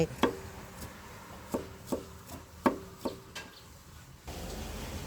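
A knife chops garlic on a cutting board in a few spaced pairs of sharp taps, close by, with no talking.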